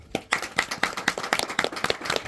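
A small group claps briefly, a patchy burst of applause with distinct individual claps rather than a full roar, fairly close.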